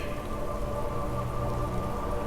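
Steady rain falling at night, a dense continuous hiss of drops on surfaces, even and close with no break or voices.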